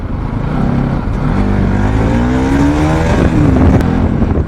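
A lorry passes on a road near a motorcycle on a solo ride, its loud engine drone rising and shifting in pitch as it goes by, mixed with steady wind and road noise.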